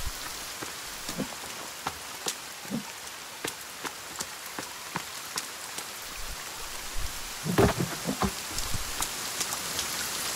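Heavy rain shower in the video game The Forest, a continuous patter of drops on surfaces with scattered sharper splashes, steady and close throughout.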